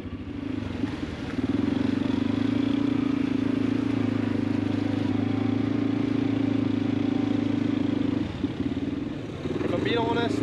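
Quad bike engines idle and hum steadily on a tea plantation, a sustained mid-pitched drone that dips briefly near the end before resuming, with a voice talking over it.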